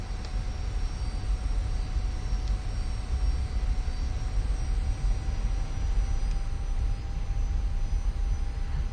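A fixed-wing aircraft's engines drone steadily at a constant loud level in the DCS World flight simulator game while the plane waits on the field before takeoff, with a faint high whine running throughout.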